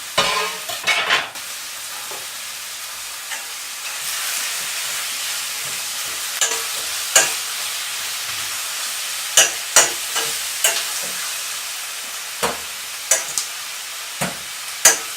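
Steady sizzling of chicken and onions frying in a pan, with repeated scraping clicks from a utensil stirring at irregular intervals, close by.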